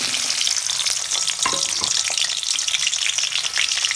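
Onions sizzle steadily in hot oil in a pan for sambal goreng, with a few stirring clinks partway through and no talking.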